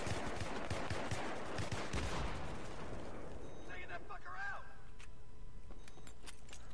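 Rapid gunfire and heavy booms from a Battlefield 3 match fill the first half densely, then thin out to scattered shots and a few whistling, warbling effects under steady game noise.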